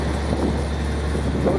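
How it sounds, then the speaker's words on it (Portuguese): Engine of a VW 9.160 truck, a steady low rumbling drone heard close up for a brief moment, with no talking. "Aí o motorzão, hein?"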